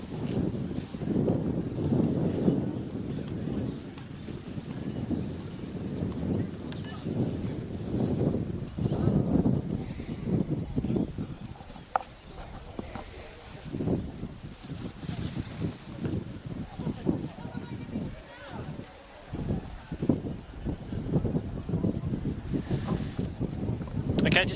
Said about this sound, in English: Very, very windy afternoon here, as you can probably hear through the effects microphone.